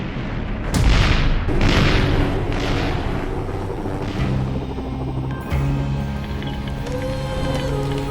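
Explosions from an aerial bombardment of a mountain city: a series of heavy booms and rolling blasts, several closely spaced early on, followed by further rumbling detonations mixed with layered low drones over roughly eight seconds.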